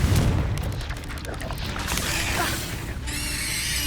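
Confringo explosive spell cast in Hogwarts Legacy on PS5, a dense booming blast with crackling debris and rumble filling the scene, followed by a shimmering magical tail.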